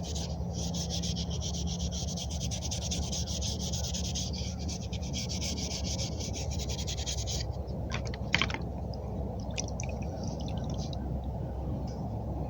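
An old chisel is sharpened with a file, giving a steady, soft, continuous rasping rub that runs throughout, close up, with a brief sharper scrape near the end.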